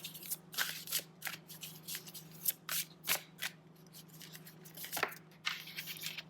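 Tarot cards are shuffled by hand in a quiet room, a run of crisp riffling and flapping bursts that stop and start in quick clusters, close and clear over a faint steady hum.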